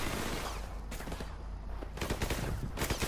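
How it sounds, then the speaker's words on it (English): Gunfire crackles through a firefight in Call of Duty: Modern Warfare Remastered, a dense, continuous volley of rifle and machine-gun shots with sharper bursts toward the end. "They're all shooting him"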